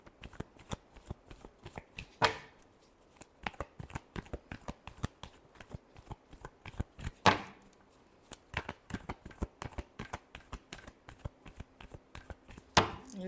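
Tarot cards being shuffled by hand, a dense run of quick riffling flutters broken by a few sharper slaps as the deck is squared, close and clear with no talk.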